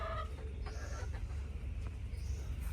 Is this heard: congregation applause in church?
no